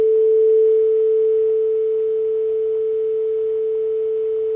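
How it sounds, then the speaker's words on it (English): A pure, steady sine tone at 440 Hz, the note A, held evenly and alone for several seconds at moderate loudness, played to check electronic tuners for a yangqin. "If I play a pure sine wave at exactly 440 Hz, which is A"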